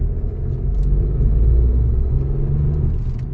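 A seven-gear vehicle's engine during gear shifts, a loud close low rumble that swells and eases steadily with no distinct shift breaks, and no talking.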